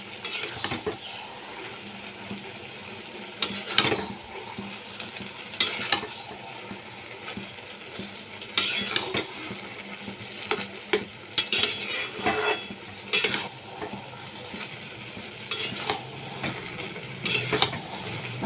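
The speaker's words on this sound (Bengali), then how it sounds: "ভালো করে আমি এর মধ্যে মিশিয়ে নিচ্ছি" Kashmiri chilli powder being stirred into a pan of hilsa fish heads with ash gourd, with repeated scraping and clinking of a spoon against the pan over a soft steady sizzle, no voices.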